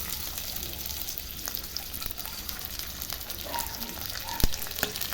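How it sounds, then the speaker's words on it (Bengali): Chicken breast pieces frying in hot oil give off a steady, close, broadband sizzle with faint crackles and a couple of soft clicks as pieces are set down. "তেলটা গরম হয়ে গেছে, এবার আমি এই তেলের মধ্যে চিকেনগুলোকে সুন্দর করে সাজিয়ে দিচ্ছি এক এক করে।"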